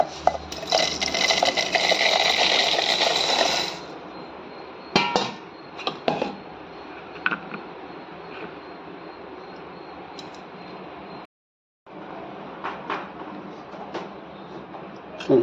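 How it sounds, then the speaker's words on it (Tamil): A mixer grinder blitzes dry drumstick leaf powder ingredients in a loud, dense whir that runs for about four seconds and then stops, followed by scattered clinks and clatter. "எல்லாத்தையும் ஒன்றா மிக்ஸியில் போட்டு அரைச்சாச்சு"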